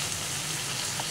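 Chicken drumsticks frying in a pan, a steady soft sizzle and crackle running evenly throughout with no talk.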